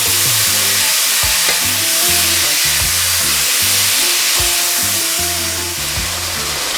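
Pork curry being stirred in a pot, a steady broadband sizzle and simmer with a few scraping strokes of the spoon, close and continuous, with a tonal musical bed running underneath and no talking.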